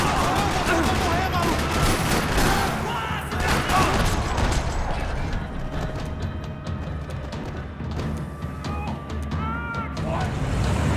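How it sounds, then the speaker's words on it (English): Gunfire rattles across a parking lot in a video game, with dense bursts of shots and engine noise under a voice talking throughout. "Another parking lot rattling with gunfire."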